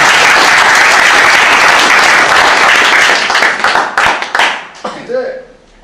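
People in a small lecture room clap loudly and densely, and the applause thins out into scattered claps over the last couple of seconds as a voice comes in.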